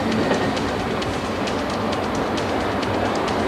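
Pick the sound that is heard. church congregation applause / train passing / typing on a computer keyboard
train passing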